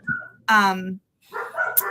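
A dog barks close by in two loud, sharp barks separated by a brief gap, with a whiny, yelping edge.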